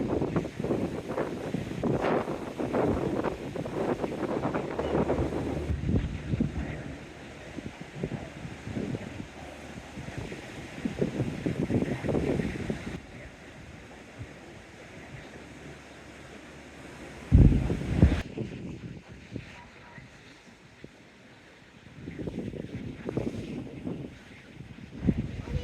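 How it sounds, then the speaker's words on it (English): Blustery wind on the seafront at Teignmouth, buffeting the microphone in broad rumbling gusts with a brief loud burst near the end, alongside distant wave and water noise. "Windy."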